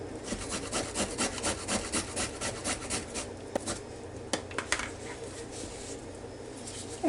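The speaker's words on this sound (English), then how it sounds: "I have this little bitty grater," Carrots rubbed against a small hand grater in a home kitchen, a steady series of quick rasping scrapes up close, fairly soft and alone without talk.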